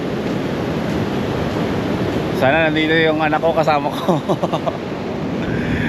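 Sea waves at Gonzaga, Cagayan wash in a steady, hissing surf behind a person speaking close to the microphone.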